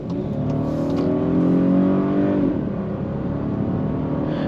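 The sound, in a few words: 2023 Volkswagen Atlas V6 accelerating, engine revving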